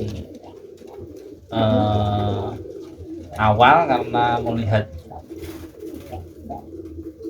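Pigeons cooing in a loft, with two loud bursts of close, throaty cooing separated by quieter stretches where someone talks.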